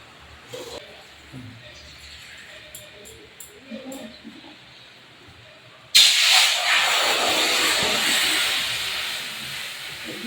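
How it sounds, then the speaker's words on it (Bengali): Water splashed into a hot kadai for a Bengali chicken dish, letting out a sudden loud, sustained steamy hiss that follows a quieter stretch of kitchen noise. "তো আমি এখন কড়াই জল দিয়ে দেবো।"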